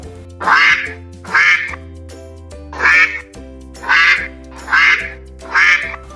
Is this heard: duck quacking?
yes